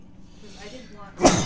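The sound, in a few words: sneeze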